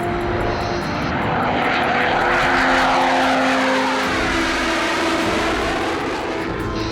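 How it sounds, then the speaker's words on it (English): Fighter jet afterburners roar loud and continuous on takeoff, a broad rushing thunder that swells slightly and then holds steady. "here comes the burners. A bit of noise there for you."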